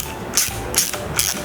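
A ratchet with an 11mm hex socket tightens a bolt on a handle for a drill-mounted sanding drum, giving three quick, evenly spaced clicking ratchet strokes up close.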